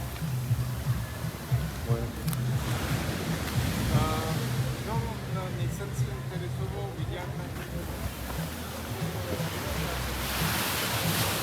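Ocean surf rolls onto Casa Marina Beach in Sosua, a steady washing hiss with wind noise, while faint voices and beach chatter sit in the background.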